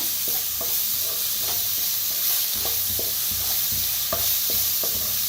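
Ground spice paste with asafoetida roasting in a pan with little oil for vada pav filling gives a steady close sizzle, with regular stirring scrapes and taps throughout.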